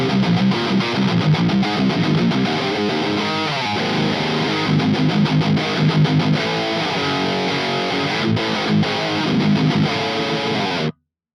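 Distorted high-gain electric guitar through a LePou rectifier-style amp plugin with GGD Studio Cabs Cali Oversized cabinet impulses, riffing with chugging palm-muted chords for about eleven seconds before cutting off abruptly, no talking.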